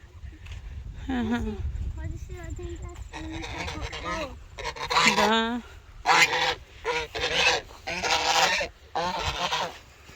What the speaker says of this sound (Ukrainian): чого гуси?